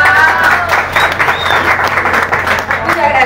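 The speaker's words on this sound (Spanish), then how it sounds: "Aplausos." Audience applause at the presentation of a DWW championship, a dense and steady wash of clapping that stays loud and close for the whole stretch without a break.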